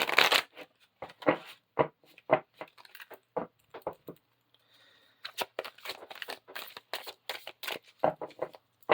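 A brand new Wisdom of the Fairy Oracle deck is shuffled by hand, close and crisp, in rapid bursts of riffling card flaps with a short pause in the middle before the brisk shuffling resumes.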